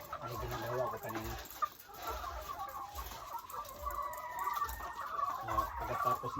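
Chickens cluck and squawk in a busy flock during feeding on a small farm, a steady layered chatter of many birds close by, with a low repeated knocking underneath.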